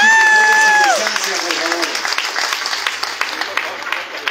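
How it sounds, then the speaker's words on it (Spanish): An audience applauds at an award ceremony for neighborhood committees in Otay Centenario; a voice speaks briefly at the start, then dense clapping follows, steady and fairly close. "aplauso."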